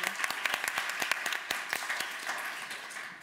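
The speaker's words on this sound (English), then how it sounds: "Please do clap." An audience applauds as a UN Women regional director walks on stage at a tech conference panel, with scattered claps forming a moderate, steady wash that tapers off near the end.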